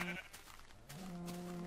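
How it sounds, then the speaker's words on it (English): Sheep in the video game Minecraft give a couple of short, wavering bleats, faint under steady game sounds. "Oh, yes, the sheep."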